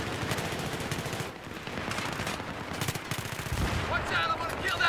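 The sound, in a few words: PP2000 submachine gun firing in Battlefield video game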